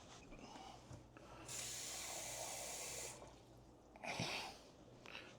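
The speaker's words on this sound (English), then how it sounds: "put a little water in there" Water is poured into a pot of chili in a short, hissing stream that runs for about a second and a half, followed by a brief splashy burst, all fairly quiet against a low background hum.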